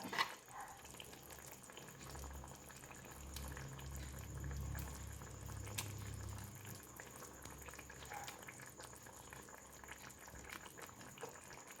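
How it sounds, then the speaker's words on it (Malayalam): Fish curry with avoli (pomfret) bubbling steadily in a pot, a soft continuous boil with low gurgling that swells in the middle and eases off, close by with no talking. "അത് മീനിട്ട് ഒന്ന് അരികെല്ലാം നല്ല തിളച്ചിട്ടുണ്ട്"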